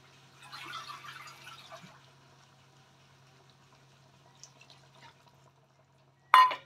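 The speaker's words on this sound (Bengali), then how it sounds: "জল ঢেলে দিচ্ছি আর নুন দিলাম।" Water is poured into a cooking pot while soybean muitha is being made: a brief, splashy pour near the start, then near quiet with faint drips, and a sudden sharp clatter at the very end.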